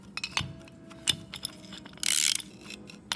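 Ratchet wrench with a 19 mm extended socket tightening the nut on a home flagpole, giving several short metallic clicks and clinks, close and fairly quiet, with a brief burst of brighter rattling near the end and no talking.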